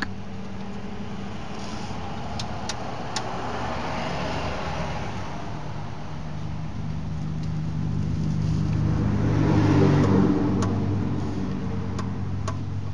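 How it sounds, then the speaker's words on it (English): A torque wrench tightens the oil drain plug on a 2.2L OHV Sunfire/Cavalier, producing a few sharp, close metallic ratchet clicks over a steady background hum. "we're going to grab our torque wrench and torque the plug down to 18 pound-feet of torque"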